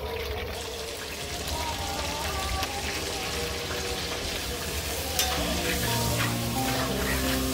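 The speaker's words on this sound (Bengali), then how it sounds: "তেলটা যখনই গরম হয়ে উঠবে তখন তার মধ্যে আমরা দিয়ে দেব কেটে রাখা আলুগুলো।" Cut potatoes with salt and turmeric fry in hot mustard oil, giving a continuous crackling sizzle with occasional stirring scrapes, close and steady throughout without talking.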